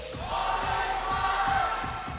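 Steady roar of a large arena crowd cheering and applauding for the TNC Pro Team at an MPL Philippines esports match, dense and sustained throughout.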